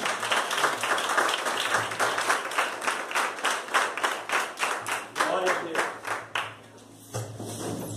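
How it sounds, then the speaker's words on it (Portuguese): A church congregation claps rhythmically in praise during a service, brisk regular hand claps sustained for several seconds before fading, with voices audible beneath. "as palmas ao Senhor"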